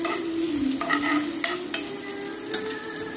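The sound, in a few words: chopped onions frying in sesame oil in a pan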